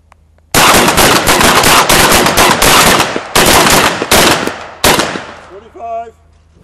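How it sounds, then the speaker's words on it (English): A Benelli Vinci shotgun firing slugs gives loud, rapid, overlapping blasts that run almost continuously for several seconds with brief gaps, then stop abruptly, leaving a fading echo and faint electronic beeps. "Shoot all six in the first 9 seconds"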